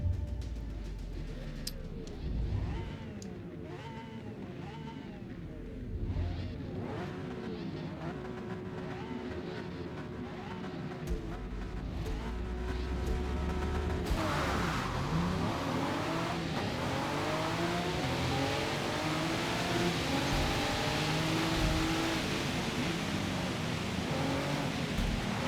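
Race car engines in a rainy race start in Forza Motorsport, a dense field revving and accelerating together, loud and steady, swelling fuller around halfway with rising engine whine and wet tire hiss.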